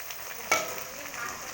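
Ginger garlic paste goes into frying onions in mustard oil for a chicken curry. A quiet, steady sizzle flares with a sharp hiss as it is added, then settles back to a soft crackle.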